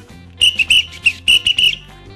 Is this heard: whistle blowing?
yes